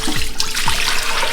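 Water splashes and gurgles as it is poured into an Instant Pot holding apple cider vinegar, a loud, steady rush close up with a couple of deeper glugs.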